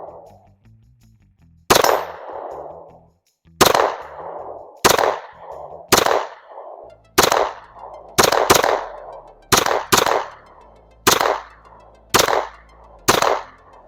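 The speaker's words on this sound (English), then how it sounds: "today we're going to be shooting some Federal 9mm brass 115 grain" A Glock 45 Gen 6 pistol firing Federal 9mm 115 grain brass ammunition, about a dozen sharp loud shots spaced roughly a second apart, each with a ringing tail.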